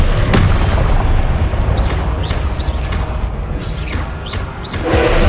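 Booming spell blasts from the Confringo fire spell in Hogwarts Legacy shake a loud, rumbling combat scene, with several sharp bursts and crackling impacts following in quick succession.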